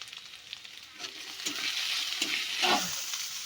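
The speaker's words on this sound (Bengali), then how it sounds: "এবার মশলাটা ভালো করে কষিয়ে নেব।" Turmeric and chili powder masala sautéing in a pan for a Bengali bhetki fish and chola kochu curry, a steady close sizzle with spatula stirring scrapes building toward the end, no talking.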